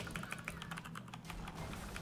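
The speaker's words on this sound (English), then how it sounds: "we got new keyboards in here" Quick, light clicking of new computer keyboards being typed on in an indoor room, a steady patter of keystrokes at low volume with a faint hum underneath and no talking.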